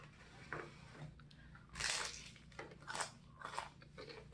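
Several crisp crunching bites into Sheetz crunchy tacos, close up, in short irregular bursts with brief pauses between them.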